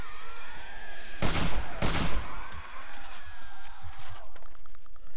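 Two sharp, loud gunshots ring out close together in a 7 Days to Die horde-night fight, each a broadband crack with a short tail, set over a steady game ambience and music bed.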